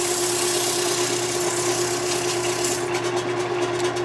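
A lathe drones steadily with a constant motor hum and a broad hiss of sandpaper rubbing against spinning wood.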